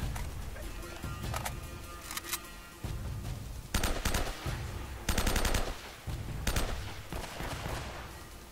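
Repeated gunfire from a weapon in the Uncharted: Drake's Fortune game on PS4, with bursts of shots and loud cracks spread throughout, under game noise and a voice talking.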